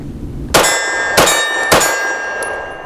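A Glock pistol magazine dropping free from the gun onto a hard surface, three sharp metallic clangs roughly half a second apart, close and loud, with no talking.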